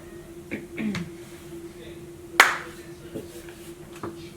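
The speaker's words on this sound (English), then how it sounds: "I clapped." A single sharp hand clap rings out, loud and close in a quiet room, set among a few softer taps and faint voices.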